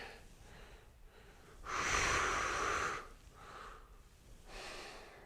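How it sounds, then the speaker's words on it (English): A person breathes slowly during a stretching exercise, with a long, loud exhale in the middle and a softer one near the end, quiet room with no talking. "Make sure we're breathing here."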